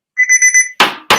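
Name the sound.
auction buzzer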